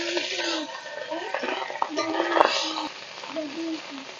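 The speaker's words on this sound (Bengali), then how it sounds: "তেলটা গরম হয়ে গেছে, এখন আমি মাছগুলো দিয়ে দিব।" Fish sizzling and frying in hot mustard oil in a wok, a steady crackling hiss throughout with a few stirring clinks and a voice talking over it.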